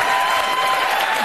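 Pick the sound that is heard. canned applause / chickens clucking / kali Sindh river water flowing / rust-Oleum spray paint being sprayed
canned applause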